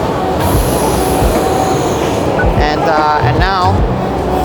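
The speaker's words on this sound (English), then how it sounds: "So I get the train there." A train rumbles past nearby in Novara, Italy, with loud, steady rolling noise and high metallic wheel squeals near the end.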